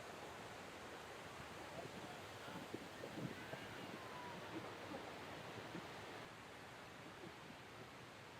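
The Kothapalli waterfalls rush with a constant soft, broadband wash of falling and gurgling water, heard at a distance and low in level, unbroken and without talk.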